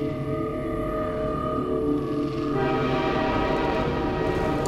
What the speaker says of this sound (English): On a train just like the first game.